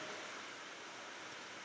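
Falling rain drops make a soft, continuous rushing hiss, uniform and faint, close to the sound of surf, with no voices present.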